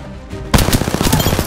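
Automatic gunfire from a battle royale video game opens abruptly after a quiet start, firing a fast, loud, close string of rapid shots.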